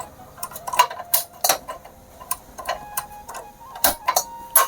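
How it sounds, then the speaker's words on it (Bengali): A metal karai wok with a little oil left in it is set onto a lit gas stove, producing a series of sharp, irregular metallic clinks and taps close by against quiet surroundings. "প্রথমে গ্যাস জ্বালিয়ে আমি কড়াটা বসিয়ে দিচ্ছি।"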